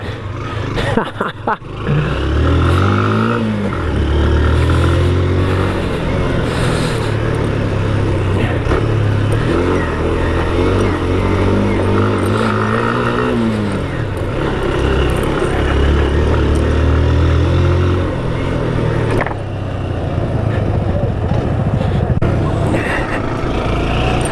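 A motorcycle engine on a Himalayan ride in Nepal drones loudly and continuously, its pitch rising and falling unevenly as the throttle opens and the engine misfires, with a voice talking over it at times.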